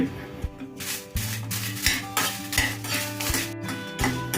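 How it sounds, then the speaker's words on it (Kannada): Dried red chillies roasting in coconut oil in a pan, with repeated clinks and scrapes of a spoon stirring against the metal pan over a soft sizzle, close by and steady. "ಇದು ಮೆಣಸಿಕಾಯಿ ಗರ್ಗರಿ ಆಗಬೇಕು ಆ ಥರ ಹುರ್ಕೊಳ್ಳಿ"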